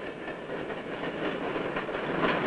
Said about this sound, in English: There goes the fast freight train from Kansas City to Chicago.